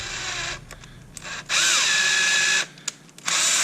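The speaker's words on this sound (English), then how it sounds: "I have a tap, and I will get this tap and run it" Tap cut by a power drill into a golf club ferrule during a Maltby Max Milled wedge install, heard as several loud whirring bursts separated by short pauses, with no talk.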